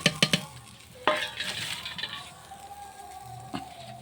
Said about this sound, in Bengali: এখন আমি কুমড়োটা ভাজার জন্যে কড়াইয়ে ঝাল জিরা পেঁয়াজ দিয়ে দেবো।